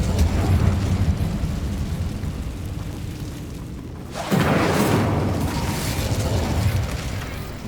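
Incendio fire spell cast in Hogwarts Legacy, a rumbling magical hum that drops out briefly and then bursts back as a loud fiery whoosh that roars and crackles for several seconds.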